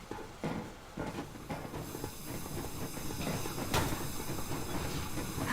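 A steam train moving on rails in the Metro video game, with steady rumbling wheel noise, occasional clanks and hissing bursts building gradually, heard fairly close and alone.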